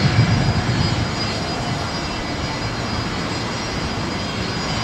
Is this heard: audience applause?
no